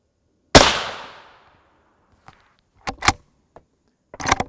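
A rifle fires M80 ball ammunition at a ceramic Level IV armor plate, giving one sharp loud report that rings and decays over about a second, followed by scattered clicks and rattles.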